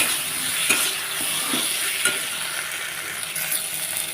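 Tomatoes go into a sizzling shol fish curry, a continuous close frying hiss with occasional soft clinks and stirring scrapes of a utensil against the pan.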